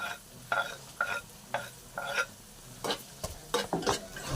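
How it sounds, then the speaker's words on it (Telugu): Liver frying with small pieces of tomato in a pan, a steady sizzle broken by repeated stirring scrapes about every half second, close and moderately loud with no talking. "బాగా వేయించేసుకుందాం."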